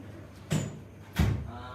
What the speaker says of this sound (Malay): Saya kena tutup pintu je.